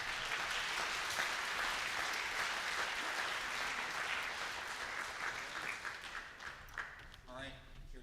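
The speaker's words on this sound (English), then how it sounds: "Applause for them." An audience at a trombone workshop claps in a sustained burst of applause that gradually thins and fades, with a voice briefly audible near the end.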